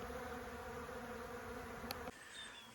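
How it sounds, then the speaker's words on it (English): A swarm of honeybees flying through the air outdoors gives off a steady, dense insect drone that holds evenly, then drops sharply near the end as the buzzing thins out. "I heard this swarm coming through the air, and then they just landed right here"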